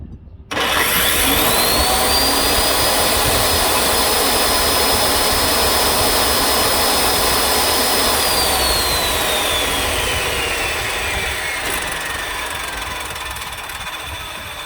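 A power saw run from a portable solar generator, spinning up with a loud high whine and steady roar that rises in pitch, holds, then slowly winds down, with no cutting, close and alone.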